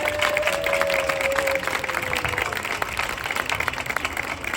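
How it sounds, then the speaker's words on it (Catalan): A crowd at a Festa Major opening proclamation in La Marina claps steadily and fairly loudly, with a brief tonal whine early on, the applause continuing evenly to the end. "et demano un aplaudiment ben fort"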